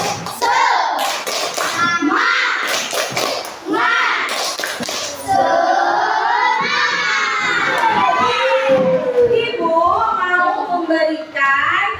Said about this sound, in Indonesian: Dan sekarang tepuk tangan dulu. Tepuk semangat.